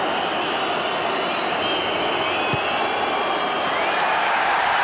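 Rugby stadium crowd in a match between England and South Africa, a broad, sustained distant roar of cheering with whistles and whoops rising above it, steady and loud throughout.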